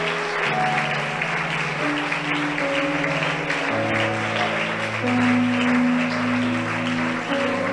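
In a church, the congregation keeps up continuous applause while held organ-like chords shift beneath it, the clapping a broad, even texture throughout.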